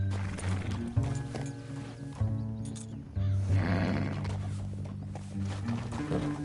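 A horse galloping in Red Dead Redemption 2 during the epilogue: uneven hoof thuds and clopping mixed with rattling tack and mechanical clatter, loud and close throughout.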